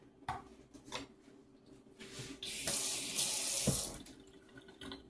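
Tap water runs into a sink to wet a spoon, a soft gush building in the middle after a few light clinks of utensils, fairly quiet and close.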